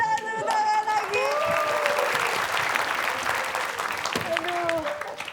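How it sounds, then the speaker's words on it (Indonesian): Audience applause in an Indonesian TV comedy quiz show studio, a broad wash of clapping under bright sliding tones from music or sound effects, with a dip in the middle before rising again. "kita kasih tepuk tangan lagi"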